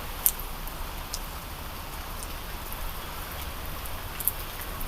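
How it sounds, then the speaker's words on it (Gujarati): Heavy rain with wind pours down in a village in a dense, constant hiss, with a couple of sharp drips standing out above the steady downpour. "અત્યારે જો વધારે વરસાદ ચાલુ થઈ ગયો જોઈ શકો તમે જોરદાર"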